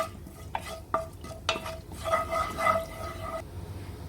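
Fennel seeds frying in hot coconut oil, heard as soft crackles and a faint sizzle with light scraping stirs, close and quiet.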